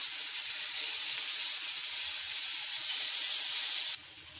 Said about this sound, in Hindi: थोड़ा सा गर्म हो जाएगा तो इसमें हम लोग ये अपने स्टिक्स रखेंगे।